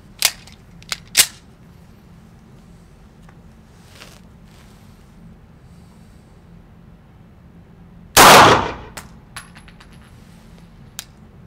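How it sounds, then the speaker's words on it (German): Walther PPQ M2 pistol fired at 7 meters: one loud, sharp shot stands out after several earlier light metallic clicks and taps of handling. "wir wollen jetzt die Walter PPQ auf 7 Meter mal Probe schießen"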